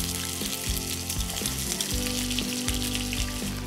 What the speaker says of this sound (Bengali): মাটনটাকে তেলে দিয়ে মোটামুটি একটু ফ্রাই করতে হবে